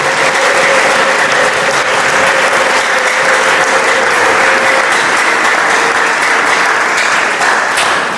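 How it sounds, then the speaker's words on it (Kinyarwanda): A church congregation claps loudly and continuously for several seconds, a thick, even wash of applause from a large crowd with a faint steady tone running underneath. "Mureke dukomere Imana yacu amashyi"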